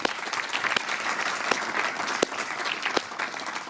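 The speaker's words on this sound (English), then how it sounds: "let's give ourselves a warm round of an applause" Audience at a university Vice-Chancellor's distinguished awards ceremony applauds, a steady, dense wash of clapping from a large crowd that holds at full strength throughout with no voices on top.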